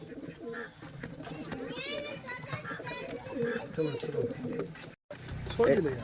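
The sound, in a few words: domestic pigeons cooing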